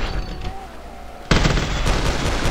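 Blaster gun in a GTA Ant-Man mod fires in a sudden loud burst of rapid shots after a quieter stretch, the crackling volley continuing steadily to the end.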